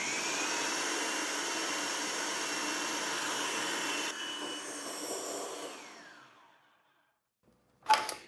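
A blender runs steadily, pureeing a pumpkin cheesecake filling in a loud, even whir before it winds down into silence. A short clatter follows near the end.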